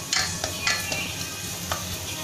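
Ginger sautés in a hot pan, with a soft sizzle under a few light spatula scrapes and clinks over about two seconds.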